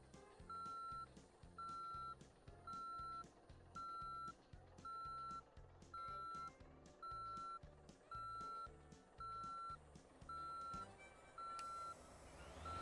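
A bus in the Motor Town driving game sounds its reversing alarm: a loud, even series of electronic beeps, roughly one per second, over a low engine rumble, with no talking.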